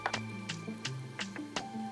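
A sewing machine stitches a 1 centimeter hem along the edge of a top: close, rhythmic mechanical clicking over a low motor whir, steady and alone without speech.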